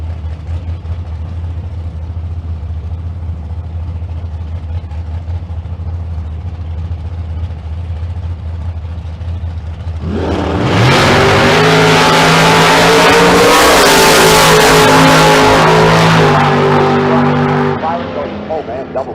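Drag racing cars at Famoso Dragstrip, a Camaro among them, heard first as a low rumble under an announcer's voice, then a roaring launch at close range that swells loudly for several seconds and fades.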